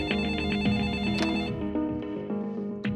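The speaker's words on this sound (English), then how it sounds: "and the phone rings." A telephone rings indoors with a bright repeating electronic chime pattern, loud and close, with no talking over it.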